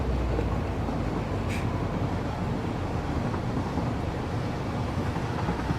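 A train in the factory-building video game Satisfactory, a steady broad rushing rumble of rolling movement that holds constant throughout, loud and even, with no talking.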